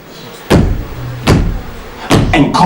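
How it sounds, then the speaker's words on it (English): Knocks at the pig's door in a children's puppet theatre show: three loud, separate thuds spaced about a second apart, each a single heavy blow with a brief rumble after it. "knocked at the pig's door"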